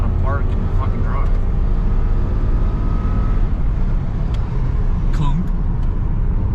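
Subaru WRX with a swapped JDM AVCS EJ20 engine pulling at full throttle, a steady loud drone with rising tones as it shifts, and people talking over it.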